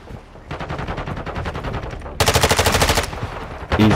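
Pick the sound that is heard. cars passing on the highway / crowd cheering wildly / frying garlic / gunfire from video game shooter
gunfire from video game shooter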